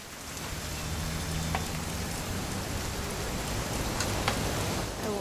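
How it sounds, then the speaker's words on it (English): Steady rainfall in What Remains of Edith Finch, a dense even patter of drops hitting surfaces, with a few faint isolated ticks and no speech. "It's gonna rain the whole weekend"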